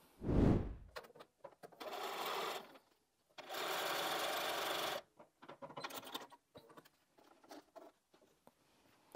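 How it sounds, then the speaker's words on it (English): A sewing machine runs in two sustained bursts of rapid stitching while sewing quilt fabric strips, separated by clicks and handling noises, with a short thump at the start. "So let's take those to the sewing machine."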